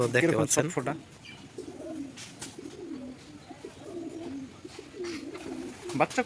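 Soft, low cooing of racing homer pigeons repeats in gentle phrases, close by, with people talking over parts of it.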